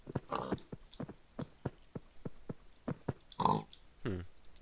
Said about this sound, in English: now let's try pigs running around.